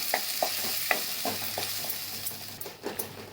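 Curry leaves and other ingredients for patodi rassa sauté in a pan, with rhythmic spoon taps and scrapes over a constant close sizzle that fades slightly toward the end.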